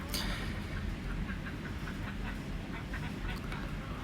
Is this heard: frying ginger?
no